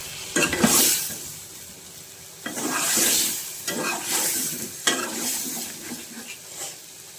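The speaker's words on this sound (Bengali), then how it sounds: "আমি হচ্ছে মশলাটা ভালো করে কষাই নিচ্ছি।" Ground ginger, cumin, garlic, turmeric and chili masala sizzles in a pan while a spoon stirs and scrapes it in steady strokes, close and moderately loud with no talking.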